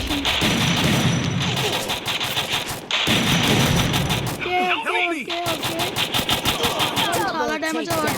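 AK-47 gunfire in a video game sounds as rapid bursts of automatic shots with pauses between, while a person talks over the shooting throughout.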